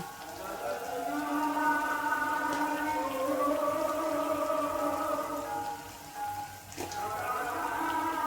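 Marinated food and onions frying in oil, a steady close hiss like light rain that carries on under a voice talking throughout.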